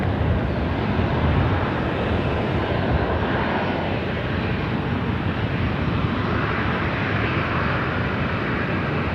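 A LATAM airliner lining up and taking off at Sydney Airport, its jet engines giving a continuous, steady, broad roar heard from a distance with no talk.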